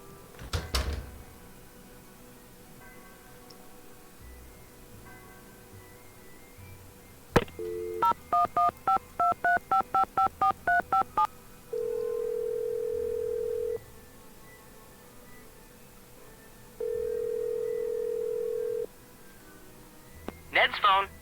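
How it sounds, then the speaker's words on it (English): Telephone keypad tones from a Nancy Drew video game: a quick run of about ten evenly spaced beeps, then two long steady ringback tones separated by a pause, with a few clicks. "let's call Ned"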